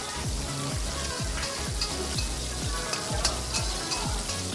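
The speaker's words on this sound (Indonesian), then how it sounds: "Bawang putih, bawang merah, juga irisan cabai yang ditumis sampai harum." Garlic, shallots and sliced chili sautéing in a pan make a dense, even sizzle, with rhythmic scraping strokes of a spatula repeating about twice a second, close and steady.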